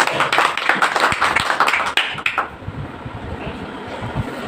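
An audience claps at a Makar Sankranti literary gathering, a burst of many hands that stops abruptly after about two seconds and leaves quiet room noise.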